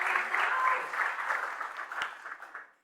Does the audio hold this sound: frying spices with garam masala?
no